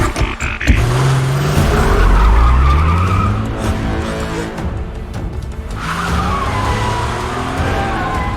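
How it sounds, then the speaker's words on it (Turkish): A car speeds away with loud, sustained tire squeal and skidding, engine roaring up close and long screeching sweeps rising and falling throughout, no talk over it. "Araba kendi kendine çalıştı."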